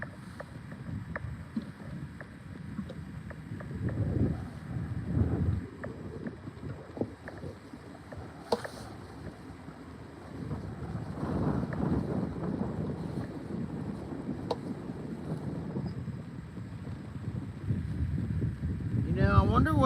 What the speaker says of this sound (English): Wind is not dying.